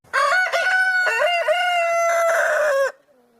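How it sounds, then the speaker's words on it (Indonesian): A rooster crows loudly once, a long wavering cock-a-doodle-doo close by, then falls silent. "Ayam itu berkokok dengan lantang berulang-ulang"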